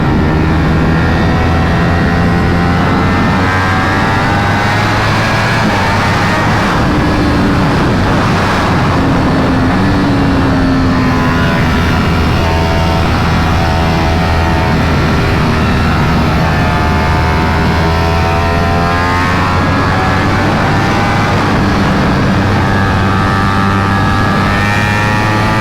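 A sport motorcycle engine, a Ducati Panigale V4 or Aprilia RSV4, drones loudly and continuously at speed, with rising and falling revs layered over strong wind rush as the bike rides along.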